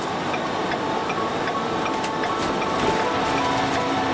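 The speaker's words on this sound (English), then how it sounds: "That rather loud engine noise you hear and the blinkers going is because I'm now on a" A truck engine in tow haul mode rumbles loudly and steadily while braking on a downhill road, with faint regular ticks from the blinkers running underneath, and no talk.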